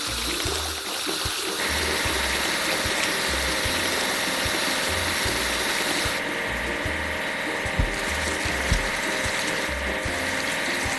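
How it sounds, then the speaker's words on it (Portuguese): A wood loader machine works in a truck, tractor and excavator construction video game, with a steady mechanical engine drone and a regular low pulsing thump repeating every second or so, plus occasional clicks, sounding close and continuous. "Carregador de madeira."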